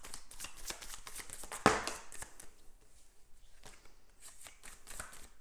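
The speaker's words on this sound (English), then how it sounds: "So I'm just gonna shuffle a bit here," Tarot cards being shuffled by hand for a pick-a-card reading, a soft riffling flutter with a sharper snap of cards near the middle, close and quiet with no talk.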